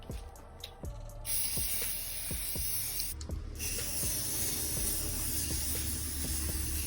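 A paint spray gun hisses steadily while laying a second coat on a car being painted at home, a continuous close airy spray with brief pauses and scattered small clicks and knocks underneath.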